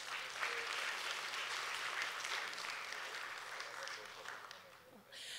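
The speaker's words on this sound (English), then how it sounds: "Let us give them again a well-deserved round of applause." A conference audience at a plenary session gives the moderator and panelists a sustained round of applause, a soft, moderately distant clapping that fades slightly near the end.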